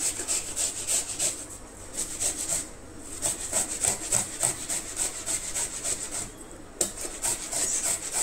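Cucumber rubbed against a hand grater for Goan tavsoli steamed rawa cake, a steady run of rasping back-and-forth strokes, close and fairly loud, with a couple of brief pauses.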